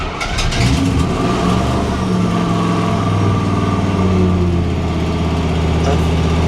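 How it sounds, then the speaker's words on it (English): The 350 Chevy V8 in a custom Vietnam War M114 tracked carrier cranks and catches, then settles into a deep, steady idle with a rumbling low throb, heard close and loud. "Nothing beats the sound of those 350 Chevy motors."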